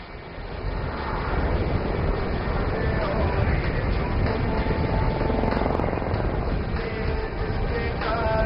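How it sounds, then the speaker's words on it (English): Helicopter making a steep, rapid zoom climb at the Aero India air show, its engine and rotor roaring as a loud, steady, sustained drone throughout. "The helicopter will execute a steep, rapid ascent to gain altitude"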